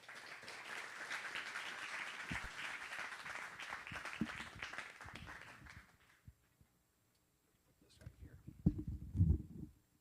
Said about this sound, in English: if everyone give me a round of applause for Christy Sirtwell